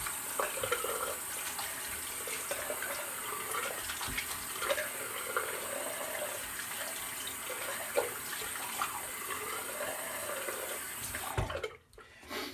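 Water runs steadily from a tap for rinsing after a shave, a continuous close splashing stream that cuts off near the end.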